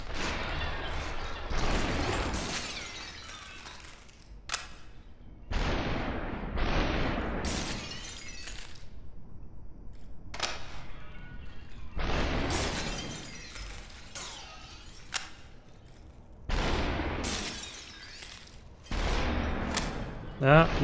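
Bursts of gunfire and shattering crashes from Superhot: Mind Control Delete, recurring in irregular clusters with quieter gaps between them, while a player talks over parts of it.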